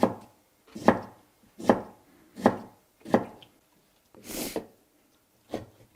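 A knife chops mustard-green kimchi on a cutting board in seven distinct, evenly spaced strokes, close and crisp with short silences between, one stroke sounding scrapier than the rest.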